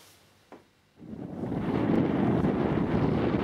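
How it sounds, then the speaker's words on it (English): Blustery outdoor wind at force 3 to 4, shifting direction, swells into a steady loud rush that buffets the microphone after a short quiet start, with no talking. "Well, it's a bit of a blustery day."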